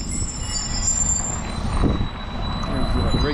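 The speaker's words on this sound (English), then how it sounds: "There's the Reykjavik bus. Little loud brakes." A Reykjavik city bus rolls past with a broadband roar and rising, squealing brakes, loudest near the end, while a steady high tone hangs in the background and a voice briefly speaks.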